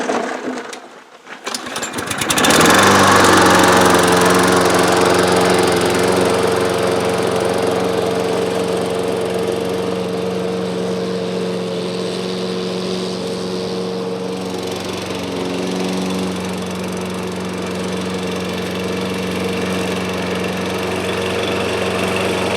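After a brief rustle, a repaired push lawn mower engine starts and holds a loud, steady drone while cutting already-mowed back grass, its pitch dipping slightly midway.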